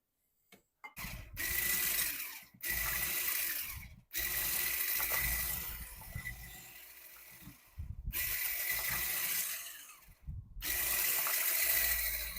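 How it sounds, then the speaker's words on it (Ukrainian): Sour cream is whipped with sugar in several bursts of mechanical whirring and rattling, separated by short pauses, close and fairly quiet, with no voices. "Нам потрібно цукор збити разом із сметаною."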